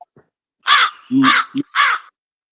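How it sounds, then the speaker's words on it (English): Crows caw three times in harsh, evenly spaced calls, fairly close and clear against a quiet background, with a couple of softer low sounds between. "Could y'all hear the clapping and the crows?"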